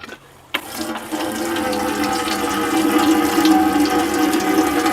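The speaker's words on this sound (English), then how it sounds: "And there we have it. Water flow fixed." Water gushes from a tap fed by a repaired 12V water supply after a plug is pulled, starting with a click, then a steady loud flow filling a sink, close by, with no talking.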